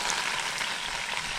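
Baby back ribs sizzle on a George Foreman grill with a soft, steady crackling hiss, close and even throughout the brief moment, with no voices.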